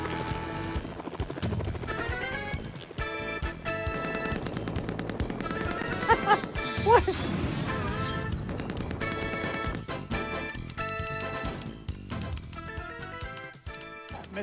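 Heavy bursts of rapid gunfire from a helicopter attacking a building in a Mortal Kombat clone game, with crashing impacts over a dense, continuous game soundtrack and a brief louder crash near the middle.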